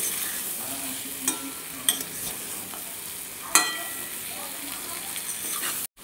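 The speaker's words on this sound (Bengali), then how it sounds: "আমি কিন্তু খুব বেশি ভাজবো না, জাস্ট একটু সামান্য ভেজে নেব।" Taro pieces tossed with turmeric fry lightly in a pan: a soft, steady sizzle broken by a few sharp clinks of a spatula stirring against the metal.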